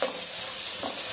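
Onions frying with ginger, garlic and tomato are stirred in a pan, giving a steady loud sizzle with two brief scraping strokes of the spoon.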